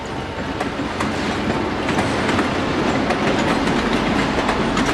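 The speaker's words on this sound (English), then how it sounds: "two-engine train just trying to come back" A Southern Pacific two-engine train rolls past near a station, a loud, continuous rumble with steady clickety-clack of wheels over rail joints throughout, no voices.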